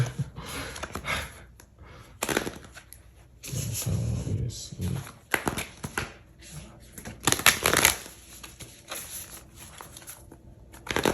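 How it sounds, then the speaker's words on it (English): A deck of cards shuffled nearby, with repeated riffles and rustling flutters in bursts, loud and close, with no one speaking. "We'll get a few shuffles, and we're gonna cut this deck."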